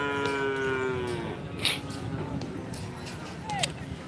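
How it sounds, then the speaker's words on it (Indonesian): Cattle mill about at a karapan sapi bull race on a village field in Pamekasan, with a drawn-out moo early on and a short bellow near the end over a busy crowd murmur and scattered voices. "Ada banyak sapi besar ya teman-teman,"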